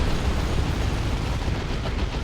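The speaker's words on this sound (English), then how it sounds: "That was a bio meltdown explosion for sure." A bio meltdown explosion goes off in the real-time strategy game Warhammer 40,000: Dawn of War 2 during an Ordo Malleus versus Orks match, a loud, rumbling burst that fills the whole moment with dense, sustained noise.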